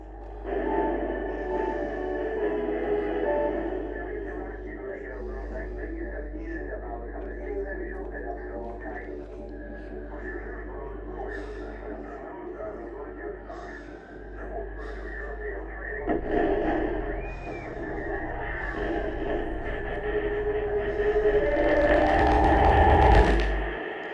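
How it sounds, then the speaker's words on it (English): A television in the video game Somerville gives off garbled, incomprehensible electronic noises with mechanical chattering and humming over a low drone, swelling into a loud burst of static toward the end. "the television makes noises that manage to convey that meaning, despite being incomprehensible"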